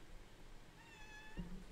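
A single quiet cat meow, drawn out and rising, heard alone against a soft background hum.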